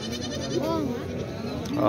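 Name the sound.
billy goats bleating at livestock market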